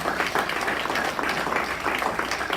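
A church congregation applauds steadily at a Spanish-language worship service, with dense, sustained clapping filling the space and a faint voice mixed in.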